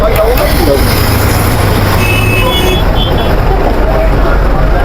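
Dhaka Express bus pulls in through loud, dense road traffic, a continuous roar of engines and passing vehicles close by, with people talking over it.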